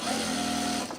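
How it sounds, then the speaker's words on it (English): A sewing machine runs in one steady, close burst of about a second, top stitching along the edge of a fabric baby bag, with no talking. "I'm just top stitching this edge up here"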